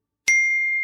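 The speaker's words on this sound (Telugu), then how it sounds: "మీకు ఏంటండి ఫోన్ పే లో కూడా మెసేజ్లు వస్తున్నాయి?" A single bright notification ding from a PhonePe message on a phone, a clean tone that sustains and slowly decays, alone without voices.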